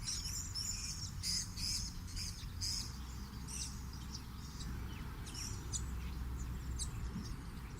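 Purple-crowned lorikeets give bursts of shrill, high chirps and screeches in quick clusters, fairly close, over a low background rumble.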